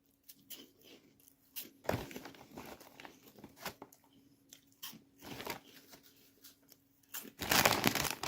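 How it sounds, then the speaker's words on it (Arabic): A bag of ketchup-flavoured snack chips being opened and handled close by, with crinkling plastic, tearing and crunchy rustling bursts at irregular intervals, no talking over it. "فتحنا تاني كيس. هنفتح التالت."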